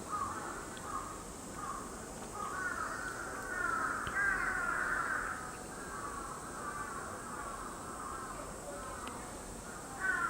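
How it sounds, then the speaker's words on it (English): Crows caw repeatedly at a distance in Tokyo over a steady background hiss, with calls clustering in the middle and returning near the end. "You can hear the crows."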